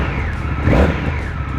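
An Indian FTR motorcycle engine and muffler running close by, a loud, steady mechanical drone that swells briefly partway through.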